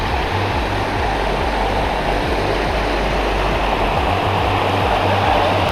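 Waterfall along the trail to Krok I Dok Falls in Thailand, heard as a steady, loud broadband rush of falling water with no pauses and no voices.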